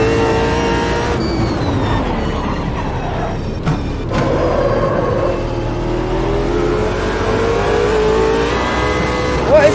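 Race cars in Automobilista 2 at Bathurst, heard as a steady, loud engine drone with rising and falling revving tones as cars close in and pass, one sharp dip midway, running continuously.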